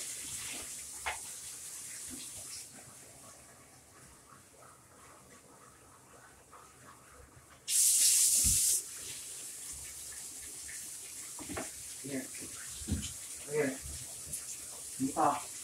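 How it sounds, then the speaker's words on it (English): Cold water runs from a tap while a German shepherd is washed after being sprayed by a skunk, a steady close gush under a voice, with a louder hissing burst partway through. "Cold water going"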